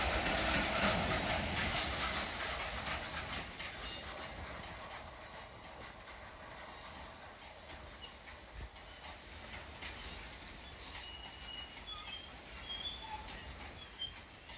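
Class 66 locomotive 66763 hauling a train from Middleton Towers to Barnborough rumbles past at Doncaster station, a broad rolling drone with faint clicks and squeals that slowly fades.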